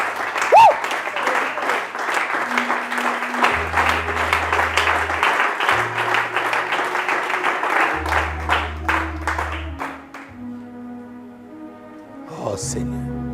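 Congregation in a church applauding and cheering the Lord, sustained loud clapping from a crowd lasting about ten seconds over keyboard music, with a voice speaking over it before the applause fades out.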